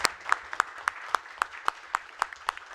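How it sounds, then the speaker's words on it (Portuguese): Applause at a council meeting, thin and sparse, sounding like a few people clapping in a steady, evenly spaced rhythm with sharp individual claps close to the microphone. "Eu acho que uma salva de palmas é importante."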